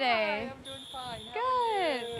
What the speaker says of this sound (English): unfortunately that's a fire alarm